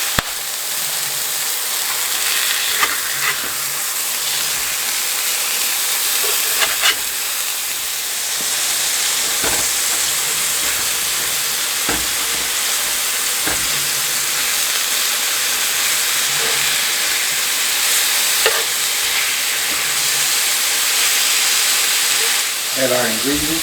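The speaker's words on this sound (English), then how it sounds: "I put a little olive oil in here in this pan, and I'm gonna let this brown on each side for about just 2 minutes" Steak browns in olive oil in a hot pan for a cheesesteak sandwich, giving a loud, steady sizzle and hiss that runs throughout, with faint clinks and a brief voice near the end.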